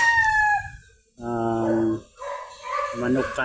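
Chickens at a chicken coop, with a rooster's harmonic crowing calls rising and falling close by across a few seconds, separated by brief pauses, over low background rumble and occasional clucking.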